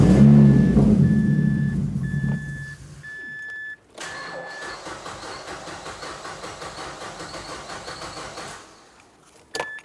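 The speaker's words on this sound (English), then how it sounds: "crank the car over until there's no more fuel in the system to depressurize the system" A 2004-2009 Mazda 3 2.3L four-cylinder cranks over with its fuel system being depressurized: loud low churning for about three seconds, then a pause and a steadier, thinner mechanical whir with a repeating high chime tone, ending near silence.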